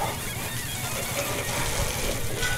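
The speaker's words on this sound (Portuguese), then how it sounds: "Vou usar água abundante também." Water rinses a motorcycle being washed without a pressure washer, a continuous loud splashing gush with no break and no talk.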